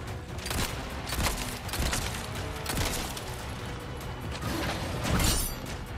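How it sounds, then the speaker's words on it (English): Mechanical clicks and clacks of a gun being reloaded in Resident Evil 4, the Separate Ways DLC: several metallic snaps over a few seconds against a dense background of game noise. "That's how you reload."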